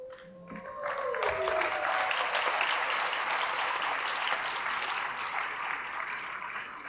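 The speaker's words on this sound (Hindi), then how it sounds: "बगैर कुछ बोले अगर तालियां बज जाए तो समझ लेना काम हो गया है" A crowd at a Rudra puja gathering during Shravan bursts into steady applause that swells after a brief moment of talk, then holds as a dense wash of clapping.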